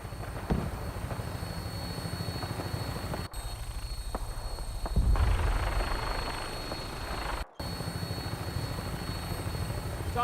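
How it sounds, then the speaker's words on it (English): A vertibird aircraft in the video game Fallout 4 gives a steady rotor and engine drone with rhythmic thumping, continuous and fairly loud, broken by a couple of brief dropouts. "Tinker's gonna keep the vertibird spooled for an immediate takeoff"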